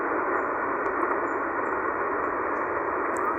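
Steady, even hiss of shortwave static from a Tecsun PL990X portable radio on its telescopic antenna, outdoors in a park in the morning. The noise stays constant with only faint, brief traces of weak signals.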